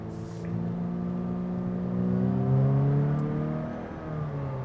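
A 2019 Honda Insight accelerating on a test drive, heard from inside as a smooth, moderately quiet engine whir rising steadily in pitch, then easing back, with no talking.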